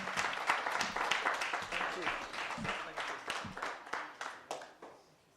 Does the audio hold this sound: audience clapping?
yes